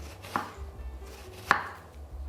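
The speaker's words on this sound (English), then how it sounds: "We cut onion in two halves, and after gently cut very finely" An onion cut in halves is finely sliced with a knife, giving two crisp, distinct chopping taps on a board about a second apart, close and clear against a quiet background.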